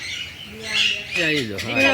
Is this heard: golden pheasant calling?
yes